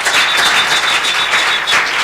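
An audience breaks into dense, continuous applause, many hands clapping loudly together for the whole two seconds with a steady, even texture, heard in a broadcast studio setting.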